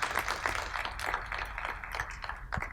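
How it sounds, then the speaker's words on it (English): An audience at a pharmaceutical case-study lecture session applauds: dense, even clapping that fills the room for a few seconds with no talk over it. "let's give him a big applause"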